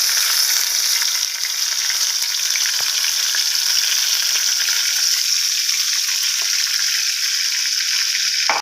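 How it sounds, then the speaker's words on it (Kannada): Ground onion hits hot oil and fries with a loud, steady, close hissing sizzle that runs unbroken for about nine seconds with no talk, ending abruptly. "ಈಗ ಗ್ರೈಂಡ್ ಮಾಡಿದ ಆನಿಯನ್ ಹಾಕ್ತಾ ಇದ್ದೇನೆ."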